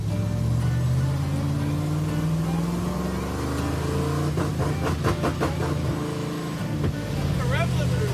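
The Hemi-swapped Gremmie car, an AMC Gremlin, drones steadily at high revs with a stuttering, pulsing break as the engine bangs against the rev limiter, heard from inside the car under people talking.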